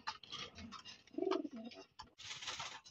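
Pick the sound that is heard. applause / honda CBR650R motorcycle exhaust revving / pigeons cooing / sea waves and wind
pigeons cooing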